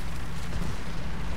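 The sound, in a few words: KV-1S tank cannon firing in War Thunder video game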